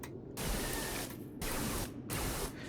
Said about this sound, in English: Can only barely hear the blaster noise that happens when I start spraying